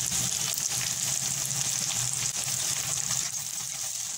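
Onion and tomato frying together in a pan for a dry chicken masala, a steady close sizzle with faint stirring and a trickle of water, no talking.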